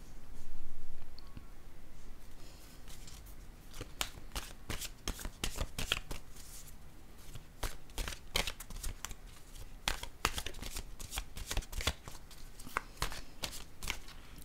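Close, continuous riffle-shuffling of a deck of cards before drawing one, with a dense steady rattle of flicking card edges.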